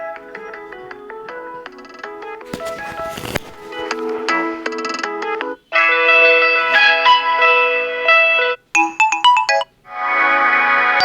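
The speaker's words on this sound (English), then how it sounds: "So here's the ringtone, and I can play the ringtone." A phone ringtone on an AI+ Pulse smartphone plays loudly, a bright electronic melody with shifting tones and short pauses between phrases.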